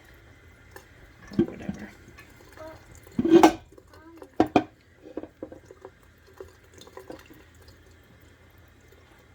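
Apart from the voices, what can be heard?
tap water running into a kitchen sink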